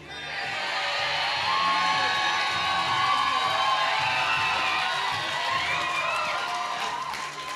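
A large crowd at a swing dance Jack and Jill invitational cheers, whoops and shouts loudly and steadily, sustaining the roar for several seconds before it eases slightly at the end.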